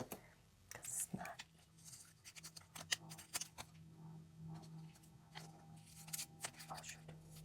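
Scissors snip through a paper page in quiet ASMR trimming, a series of soft, close, uneven cuts with faint whispered talk around them.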